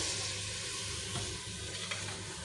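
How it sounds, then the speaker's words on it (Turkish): A pot of garlicky head and trotter soup, with milk just added, is stirred, giving a continuous close bubbling and sloshing hiss with soft scraping swirls and no speech. "Şu an karıştırıyoruz arkadaşlar."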